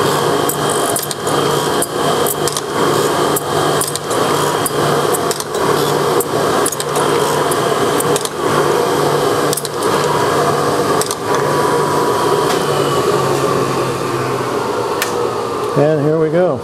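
A grinder dresses a carbide tool tip for a skinny grooving tool, making a steady loud whine with repeated sharp contact bursts as the wheel strikes the carbide, while a voice speaks over it.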